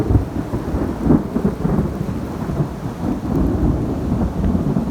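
Steady rain falls during a hike near Sugarlands Visitor Center in Gatlinburg, Tennessee, with low, rolling thunder rumbling continuously underneath, a dense, even wash of sound with no voices.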